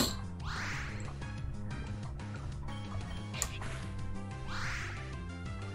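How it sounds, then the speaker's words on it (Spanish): Ducks in a Pokémon video game quack in a few short, nasal bursts over steady looping game music, with one quack early and another near the end. "Que está todo lleno de patos."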